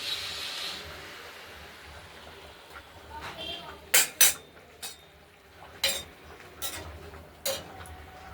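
A spoon stirs a Bengali vegetable shukto curry of sweet potato, beans, raw banana, potato and greens in a pot, giving a handful of light metallic clinks and scrapes over a faint background hiss.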